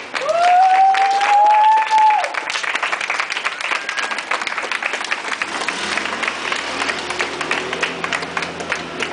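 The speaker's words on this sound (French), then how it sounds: "Passez un tonnerre d'applaudissements pour vous-même qui êtes là ce soir" An evening audience applauds loudly at a public event, dense clapping with a sustained tone over the opening seconds, then scattered ongoing claps with crowd murmur and a low hum.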